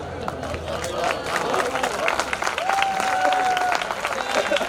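Applause from the crowd at a kavi sammelan poetry gathering in Damua, a continuous wash of many hands clapping with murmuring voices and a brief tonal whistle-like sound partway through.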